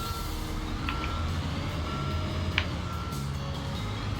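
A truck backing up in Construction Simulator gives a steady run of electronic reversing beeps over a low diesel engine rumble, with a brief air-brake hiss near the middle.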